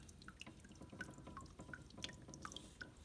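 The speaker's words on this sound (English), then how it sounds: "We have the water coming out of the cave there." Water trickles out of a small cave in a garden cliff-and-cave waterfall. Soft, scattered drips and splashes come at irregular intervals over a faint steady flow, quiet and close.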